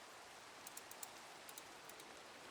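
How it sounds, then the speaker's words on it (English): Steady rain falls outside in a modded Minecraft world, a soft even hiss with a few faint scattered drop ticks, quiet and continuous throughout. "It's raining outside, so we may have a visitor."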